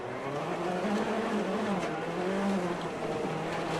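A rallycross race car driven by Ken Block circles a track at a 2013 Global Rallycross Championship event in Charlotte, its engine a steady loud drone with shifting pitch and no voices over it.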